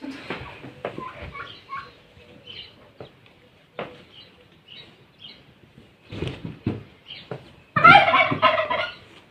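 Chickens cluck and call in scattered bursts, closer and louder toward the end, with faint background murmurs.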